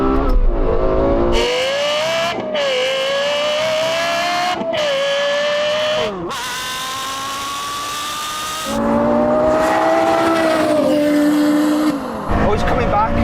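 A Lexus LFA and a Porsche Carrera GT drag race over a quarter mile, engines screaming loudly with rising pitch through repeated upshifts, each gear marked by a brief cut before the howl climbs again.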